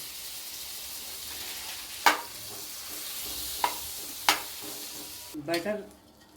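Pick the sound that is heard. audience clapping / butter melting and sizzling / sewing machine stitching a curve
butter melting and sizzling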